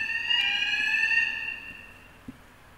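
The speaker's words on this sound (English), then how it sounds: "Alarm." An alarm blares with a loud, sustained electronic tone that fades out after about a second and a half, followed by a single faint click.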